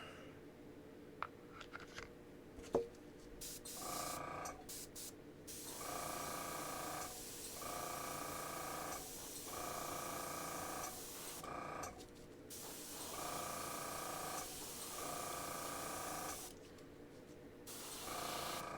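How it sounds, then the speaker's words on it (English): An airbrush sprays gold paint in a steady, close hiss. It runs in long bursts separated by short pauses, with a few faint clicks near the start. "Gonna put a couple of drops in the airbrush, and now we go to town."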